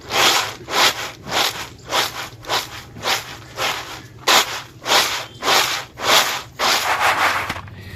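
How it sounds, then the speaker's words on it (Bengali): Roasted, cooled peanuts are rubbed by hand to loosen their skins. About a dozen steady, rhythmic rubbing swishes sound close and loud, with no voices. "এবার বাদামের খোসাগুলো ভালো করে পরিষ্কার করে নেব।"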